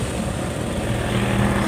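An Isuzu Crosswind engine idles cold at low RPM, a steady close low rumble with a faint rhythmic chug throughout.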